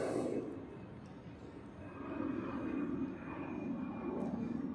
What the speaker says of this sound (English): Austrian Airlines A320 on departure on runway 28